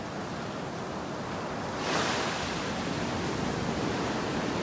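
Ocean surf washes steadily onto a beach in North Naples, Florida, a continuous broad hiss of breaking waves that swells louder about halfway through as a bigger wave rolls in, with no voices.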